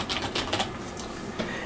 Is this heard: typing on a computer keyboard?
yes